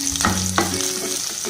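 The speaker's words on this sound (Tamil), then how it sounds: "பச்சை மிளகாய் சேர்த்து நல்லா வதக்கிட்டு" Green chillies sautéed in hot oil in a pan, a steady sizzle with a few scraping stirs of a spoon against the metal, close and fairly loud, no voices.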